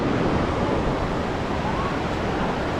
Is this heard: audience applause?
no